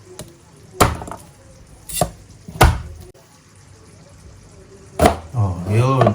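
An onion is sliced with a knife for adobo: a few separate, sharp chops on a board spaced by pauses, then a voice speaks near the end.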